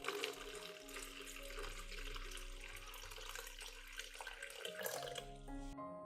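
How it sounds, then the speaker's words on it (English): Water poured into a cup holding an orchid, a faint, continuous trickle and splash under background music. "Next, add a moderate amount of water, just enough to submerge part of the roots,"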